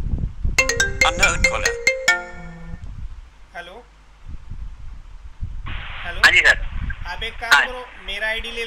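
A mobile phone ringtone from an incoming call sounds loud and close in repeating melodic bursts, with talk continuing around and between the rings.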